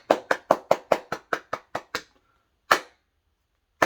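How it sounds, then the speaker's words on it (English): A single person claps alone: about ten quick, evenly spaced claps close up, a pause, then two slower isolated claps. "Hard to do one-person applause."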